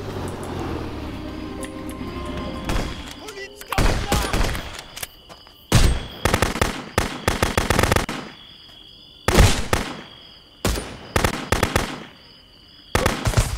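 Gunfire in the video game Contraband Police crackles in repeated rapid bursts, some long volleys and some short, loud and close, separated by brief lulls with a faint background hum.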